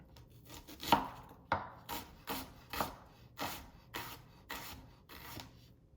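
A sharp knife chopping food by hand on a cutting board, about ten crisp, evenly spaced cuts, close and fairly quiet with no talking.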